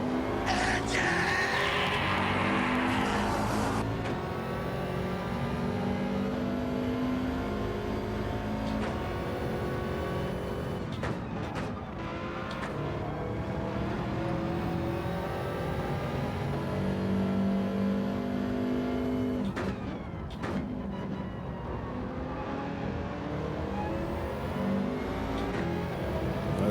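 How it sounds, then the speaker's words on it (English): Race car engine in Gran Turismo 7 starting and revving hard, with a loud sustained roar and rising, falling pitch sweeps through the whole stretch, plus a few sharp shifts or pops near the start and around the middle. "gentlemen, start your engine"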